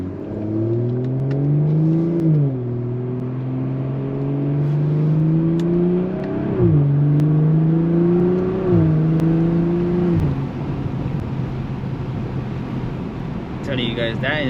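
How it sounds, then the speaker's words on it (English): A BMW M340i inline-six climbs through the gears with a loud, close drone, then dips and rises again at each shift; the engine note fades near the end as someone talks over it. "Oh, it's a fat V6."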